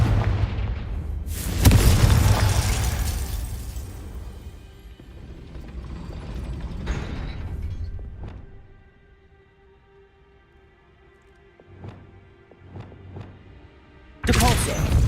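A Confringo fire-blast spell in Hogwarts Legacy, a loud bursting explosion early on that rumbles and fades into quieter clicking magical effects, with another hard blast at the end.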